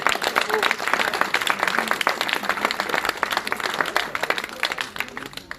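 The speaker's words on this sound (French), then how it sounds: "Saluez-les, applaudissez-les." An audience at a speech applauds with sustained, fairly close clapping of many hands, steady and busy throughout the five-odd seconds.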